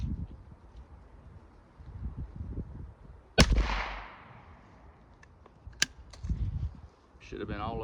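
A .410 shotgun fires at a turkey target 20 yards off outdoors, one sharp loud blast with a decaying tail, then a second fainter crack, with soft voice and handling noise around it.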